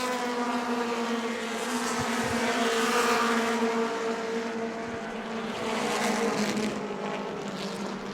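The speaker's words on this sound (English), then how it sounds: "Todd Latour doesn't sound too good in car number 21" Modified race cars on the oval at New Smyrna make a steady, droning engine roar, heard at a distance and holding a fairly even level throughout.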